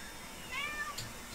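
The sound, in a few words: cat meowing to be let out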